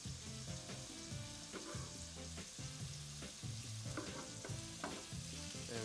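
Meat sizzles and crackles in a hot pan, a continuous close hiss with faint soft music in the background.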